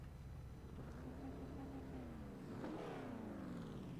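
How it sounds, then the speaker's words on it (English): A stock car engine in a 1987 Firecracker 200 racing game revs steadily, a rising and falling mechanical drone that swells loud near the end as the car accelerates away. "He's revving it, he's putting his foot down."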